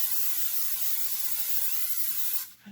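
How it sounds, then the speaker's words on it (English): Pam non-stick cooking spray hisses steadily into a pan that once belonged to a grandmother, one continuous close spray lasting over two seconds before cutting off. "I spray with Pam for non-stick."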